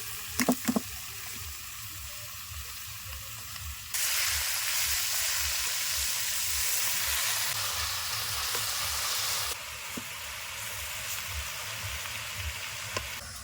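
Leafy greens hit a hot pan of browned garlic, raising a louder burst of sizzling that holds for several seconds before settling back to a quieter hiss.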